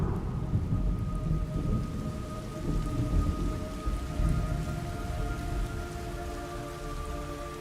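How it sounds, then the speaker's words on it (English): Steady heavy rain hisses in the video game Metal Gear Solid Delta while low thunder rumbles continuously underneath, with a faint tonal hum running through; no voices. "It's raining blood."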